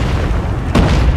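A thermite charge explodes in the Call of Duty Mobile video game. Loud rumbling game noise builds into a single heavy, deep boom near the end of the brief moment.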